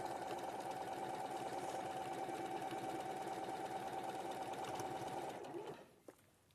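Continuous close whirring of a sewing machine running through fabric, steady and even for several seconds before winding down and stopping, followed by a soft clunk.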